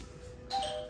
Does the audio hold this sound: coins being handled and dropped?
no